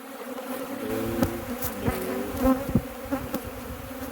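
Honey bees at an opened hive of a ratty colony being sorted hum in a steady, close, droning buzz, broken by a few sharp clicks and knocks from handling.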